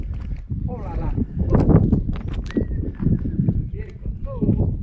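Four Pantelleria donkeys walk nearby, their hooves clip-clopping in an uneven rhythm under close conversation.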